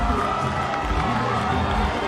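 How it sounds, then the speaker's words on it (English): Crowd cheering and roaring at an athletics track race in its final stretch, a steady dense wall of voices and shouts that stays loud throughout. "Oh, the crowd is pumped for this."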